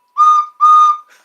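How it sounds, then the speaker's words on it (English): A toy-train-like whistle gives two clear, fairly loud blasts, each about a third of a second long, followed by a faint, short trailing toot, with no talking. "I like this whistle better."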